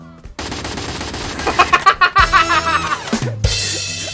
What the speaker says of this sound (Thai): มันยิงเร็วมากทุกคนมันยิงเร็วมากเลยดูดิ